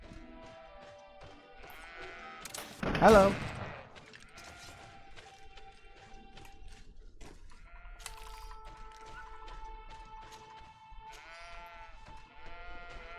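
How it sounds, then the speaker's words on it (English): Goats bleat repeatedly in the video game GreedFall, wavering cries at mid distance, broken early by a loud crash or gunshot burst, with a player briefly speaking. "More goats."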